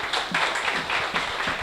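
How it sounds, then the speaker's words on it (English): An audience at a photography month event in Chiang Mai applauds. The clapping is steady and fairly quiet and carries on throughout. "and a round of applause, please"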